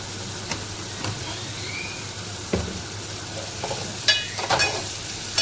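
Onion and tomato cook with salt in a pan, giving a constant soft sizzle broken by a few sharp spoon-on-pan clinks and scrapes from stirring, with no talking.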